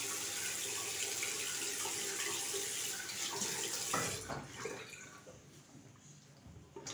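Running water from a bathroom tap while a face is wetted for shaving gives a steady splashing rush for about four seconds, then thins to softer trickles and drips.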